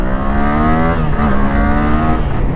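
A Yamaha MT-07 motorcycle engine revs loud and close, its harmonic drone rising and falling in pitch as the throttle swings up and down, alone with no talk.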